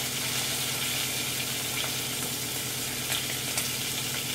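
A steak sears in a hot skillet, giving a dense, continuous sizzle and crackle with occasional louder pops, close and steady throughout.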